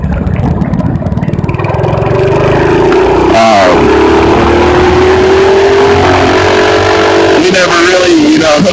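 A mini bike engine revs hard and loud throughout the ride, its pitch rising and falling as the throttle changes, with wind buffeting close to the mic.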